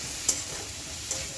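Spices fried and stirred in a pan in a home kitchen: a quiet, steady sizzle with two brief scraping clicks of the spoon against the pan.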